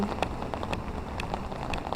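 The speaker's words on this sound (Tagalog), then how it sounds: "It's raining today." Steady rain patters on a surface in Saarbrücken, Germany, with scattered louder drops tapping close by over a continuous wash.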